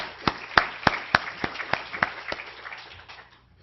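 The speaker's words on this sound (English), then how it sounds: "welcome you to congratulate each other with a round of applause" Sparse, sharp hand claps ring out at a roughly steady pace at an admitted-students event at a school of public health, then fade as they trail off.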